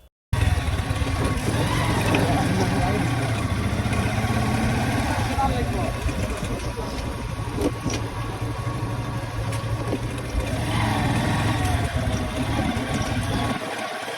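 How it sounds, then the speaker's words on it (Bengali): A motorcycle engine idling and running steadily at close range for the whole stretch on a broken, rough road, with voices talking over it. "তারপর আবার বাইক স্টার্ট দিচ্ছি"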